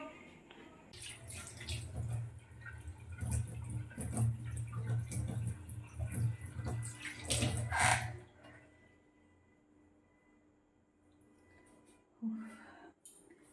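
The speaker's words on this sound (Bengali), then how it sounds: "মুখটা জাস্ট ধুয়ে নিলাম" Water splashes and runs at a sink during a face wash on a hot day, a close steady stream for several seconds, then quieter dripping and one brief splash near the end.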